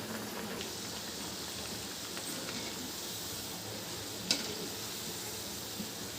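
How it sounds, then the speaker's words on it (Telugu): Mixed-lentil vadas fry in hot oil with a steady, even sizzle like light rain, and one brief clink sounds partway through. "ఇట్లా వేసుకున్నాక అటు ఇటు వేయించేసుకోవాలి కొంచెం బ్రౌన్ కలర్ వచ్చినాక తీసేసుకోవాలి"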